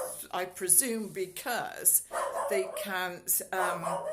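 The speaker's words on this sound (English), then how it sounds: "sorry about the dog barking" A dog barks a few times in the background, short sharp yaps scattered beneath a person talking continuously close to the microphone.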